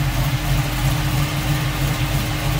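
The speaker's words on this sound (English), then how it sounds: "Good sounding engine." A 1968 Chevrolet Camaro convertible with electronic ignition and an Edelbrock 4-barrel carburetor idles nearby, giving a steady, even low rumble throughout.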